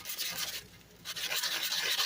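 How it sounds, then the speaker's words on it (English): Sandpaper rubs over a crusty metal part from an MTD lawn mower being cleaned for paint, a close, steady scratchy rasp with one brief pause midway. "Let it dry some and sand it some more"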